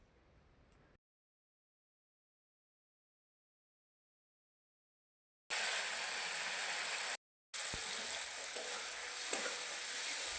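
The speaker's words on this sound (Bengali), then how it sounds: "হলুদ গুঁড়ো, লঙ্কার গুঁড়ো, জিরে গুঁড়ো অ্যাড করে কিছুক্ষণ নাড়াচাড়া করে মশলাটা ভেজে নেওয়ার পর" Turmeric, chilli and cumin powder masala frying in a pan while stirred for a Bengali egg fry, a steady hiss of sizzling oil after a long silence, briefly cut off before resuming loudly with faint scraping.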